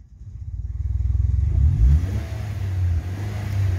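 A Nissan Sentra 2.0, which has trouble starting, fires up on CNG with a deep throbbing engine that builds quickly, then settles into a rough, pulsing idle close by.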